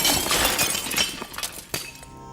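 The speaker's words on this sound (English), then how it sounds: "Ed gets the bright idea to break the glass window with his cane." Glass window smashed with a cane in a film scene: a sharp crash followed by scattered tinkling shards and a few late clinks, fairly loud and close with no talk.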